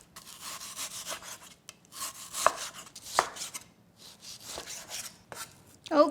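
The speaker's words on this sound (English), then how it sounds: "So just thinly, let's slice thinly." A knife slices pork that was frozen for two hours into thin pieces, making repeated rasping strokes with sharp thuds on the board between them, close and clear with no talk.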